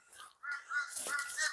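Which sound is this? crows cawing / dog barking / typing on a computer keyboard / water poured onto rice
crows cawing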